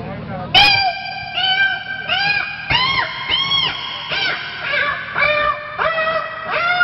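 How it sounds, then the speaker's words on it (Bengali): Two cats face off and yowl at each other before a fight, with long, drawn-out, rising and falling wailing cries overlapping loudly and close throughout. "দুটো বিড়াল যদি সামনাসামনি হয় ওদের মধ্যে একটা যুদ্ধ হয়"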